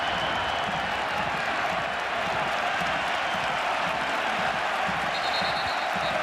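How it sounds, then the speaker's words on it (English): Home football fans at a La Liga match between Rayo Vallecano and Barcelona give the referee sustained, ironic applause, a continuous roar of stadium clapping and crowd noise that holds steady throughout. "Ironic applause from the home fans for the referee."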